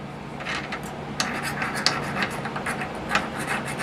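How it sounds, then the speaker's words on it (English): Short scraping and rasping strokes clean burrs off the edges of metal parts for a homemade hand engraving machine's hand-piece barrel, quiet and close, irregular rubs with a few sharper scratches. "we'll just clean up our burrs off the edge of all of this stuff"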